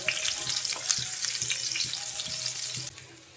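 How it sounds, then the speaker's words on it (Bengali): Chopped onion and two cloves of garlic fry in hot oil for a papaya and red lentil dal, giving a steady close sizzle with occasional soft stirring scrapes, and no one speaking. "এখন পেঁয়াজ রসুন লাল করে ভেজে নেব"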